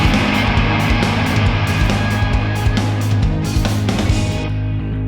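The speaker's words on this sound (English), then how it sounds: "So then all together it sounds like this." Full mixed drum kit with toms, snare, kick and room mic, from a rock cover, playing a driving, fast steady beat with loud repeated hits and ringing cymbals, alone without talk.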